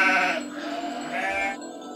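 A sheep bleats twice, close and loud, with a drawn-out wavering cry followed by a shorter second call, then quiet.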